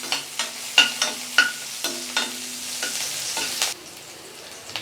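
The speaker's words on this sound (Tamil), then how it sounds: "ஒரு 2 நிமிஷம் ஃப்ரை ஆகட்டும்." Garlic, ginger and chopped green chili fry in hot oil in a kadai, a soft continuous sizzle broken by a series of sharp scraping stirs of a spoon against the pan.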